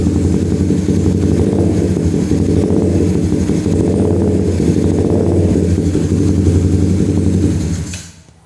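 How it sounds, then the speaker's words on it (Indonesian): A Suzuki Satria F150 motorcycle engine is revved while the idle is set, giving a loud, close, sustained rough drone with slight swells that drops away abruptly at the end, and no voices. "Kalau misalkan gua rasain atau gua mainin gasnya sebentar."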